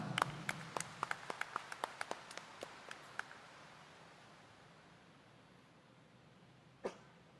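Congregation applause at a Quiapo Church mass: a burst of scattered, fairly distant clapping that thins out and fades over a few seconds, with one stray clap later in the quiet room.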